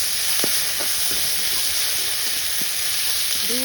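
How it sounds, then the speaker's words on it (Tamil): Onions and green chilies frying in oil for a Sri Lankan dish give a steady, fairly loud broadband sizzle, with a few brief clicks and scrapes on top and no talking. "வெங்காயத்தையும் பச்சை மிளகாயையும் போடுவோம்."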